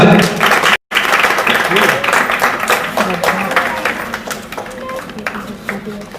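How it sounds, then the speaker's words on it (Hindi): Loud, close applause from a school audience at a Teachers Day celebration, continuous clapping broken by a momentary dropout near the start, with voices faintly underneath. "जोरदार तालियां"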